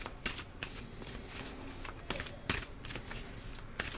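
Tarot cards being shuffled by hand, a series of crisp riffling bursts and snaps in irregular rhythm, close and fairly quiet, with brief pauses between shuffles.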